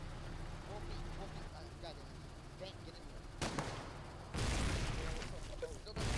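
Mortar tank firing in the game Foxhole, a sharp loud report followed moments later by a heavier sustained burst of gunfire-like noise, with voices talking quietly earlier.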